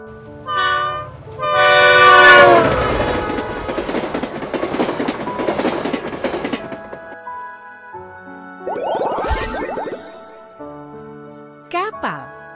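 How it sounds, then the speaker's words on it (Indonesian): In a children's vehicle-learning game, a train horn blasts loudly, followed by a sustained rumbling, clattering train passing, then fades into a chime-like tune with a short whistle near the end. "Kereta api."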